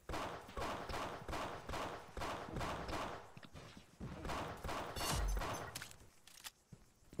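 Gunfire in the mobile shooter Pixel Gun 3D: rapid, dense bursts of weapon shots repeat in a steady rhythm, loud and close, with a brief heavier blast near the end and no talking.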